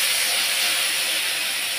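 Chopped onion sizzles in hot oil left over from frying aubergine, a steady bright hiss that fills the whole moment without any voices.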